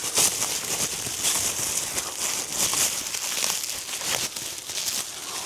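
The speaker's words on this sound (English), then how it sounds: "Let's further unwrap it." Crinkling and crumpling of packaging being pulled away from replacement driver's seat parts for a BMW E39, continuous close rustling and tearing with no talk.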